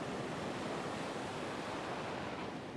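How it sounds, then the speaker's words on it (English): Heavy ocean surf breaking on a beach in rough, turbulent water, a dense continuous roar of crashing waves with some wind noise. "Whoa, here comes a wave, got to jump up."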